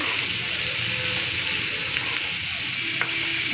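Carrot and beetroot sizzling steadily in a hot pan with turmeric, a continuous close frying hiss with faint stirring clicks and scrapes.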